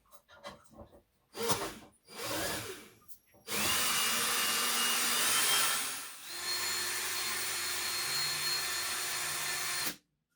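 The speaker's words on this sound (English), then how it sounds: "I've chucked the threaded rod into a drill to speed up the process of threading some couplers onto it." A power drill spinning a threaded rod whirs steadily for several seconds after a few short bursts and scrapes, then cuts off abruptly.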